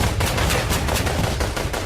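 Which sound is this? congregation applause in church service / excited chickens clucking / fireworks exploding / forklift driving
fireworks exploding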